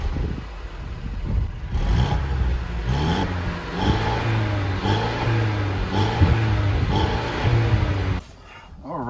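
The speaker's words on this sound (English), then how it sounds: "it's about time to go ahead and rev it up" A Mercedes C300 engine revs up from idle and holds a raised, droning roar for several seconds before falling away abruptly near the end, heard close and loud.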